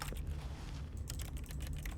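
A brief burst of computer keyboard typing, quick soft key clicks in an irregular patter over a low steady hum, with no voices.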